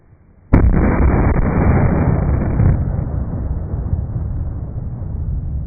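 A golf ball cannon fires at a car door: one sharp, loud blast followed by a sustained roaring rush and rumble that slowly eases over several seconds.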